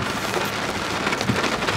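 Steady rain falls and patters on surfaces, a dense, even wash of drops with no voices.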